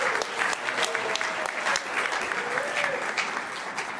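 Applause from an audience at a tennis hall of fame ceremony: dense, steady clapping fills the whole stretch at a moderate distance, with no one speaking over it.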